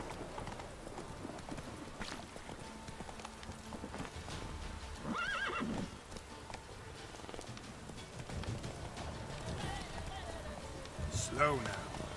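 Roach the horse in The Witcher 3 gallops with steady clip-clop hoofbeats and gives loud whinnies around the middle and near the end, with game music and someone talking over it.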